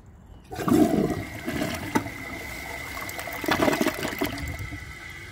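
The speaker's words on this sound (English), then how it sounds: "The flush is so short that I don't think it will go through all the way" A 2014 Delta Corrente toilet flushes with a sudden rushing roar of water, then a shorter second surge before it settles into a steady gurgle and trickle, close by.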